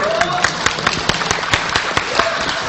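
Audience applause at a talk by a sheikh, a close, dense patter of clapping with regular sharp claps standing out, mixed with some voices.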